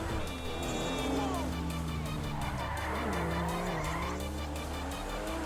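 Motorcycle in Grand Theft Auto V revving hard with a steady engine drone and squealing tyres, loud and continuous throughout, under faint game music.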